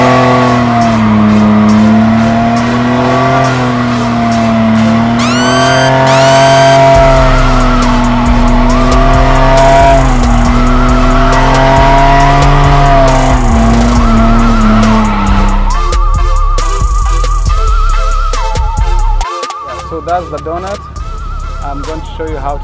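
Car drifting with loud tire squeal and revving engine, close and sustained for most of the clip, with a sliding pitch whine before the sound shifts near the end.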